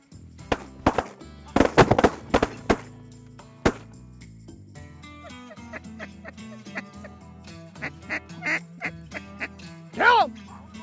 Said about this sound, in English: Good shot, Luke.